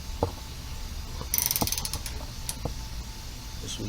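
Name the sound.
ratchet tightening A/C condenser joint on Lexus LS 460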